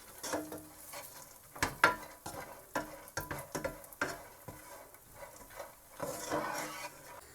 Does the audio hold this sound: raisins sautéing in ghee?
yes